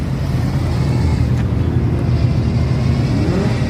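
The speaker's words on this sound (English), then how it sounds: "do you see a bunch of cars leaving?" Cars revving and driving away from a night car meet in Ontario, a steady, loud low engine rumble with a passing rise in pitch and dense background noise, heard close by with no talking.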